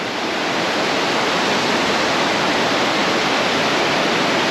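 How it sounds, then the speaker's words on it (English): The rushing roar of river waterfalls cascading down a mountainside near Boquete, Panama: a dense, steady, broadband wash of water that stays constant throughout, with no voices. "here we can look out and see the waterfalls of the river, and they continue down the mountain"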